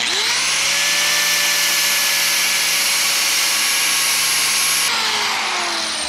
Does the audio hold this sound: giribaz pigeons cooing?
no